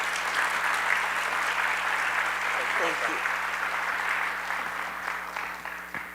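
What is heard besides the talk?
audience applause for Sandra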